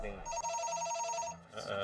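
Telephone bell ringing inside a video game, a rapid trilling electronic ring held for about a second, with people talking over it throughout.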